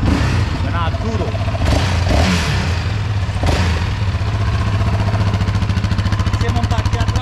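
A Yamaha Raptor YFM700-R quad's engine runs close by with a rough, pulsing idle and mechanical clatter, a couple of brief revs rising early on, while someone talks over it.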